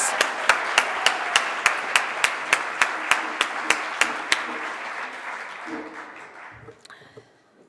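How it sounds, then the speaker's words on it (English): Applause for the Kuumba singers and Wellesley High School step dancers at a Martin Luther King community breakfast at Wellesley College: a steady crowd clap with sharp rhythmic claps on top, fading out near the end. "We'll have one more round of applause for the Kuumba singers and the Wellesley High School step dancers"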